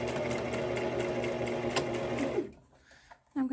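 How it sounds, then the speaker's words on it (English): A sewing machine runs a back stitch on a fabric adult-sized face mask, its fast even needle clatter loud and close for over two seconds before stopping, followed by a brief pause and a short burst of sound. "fill this up, making sure that this doesn't get caught while I sew"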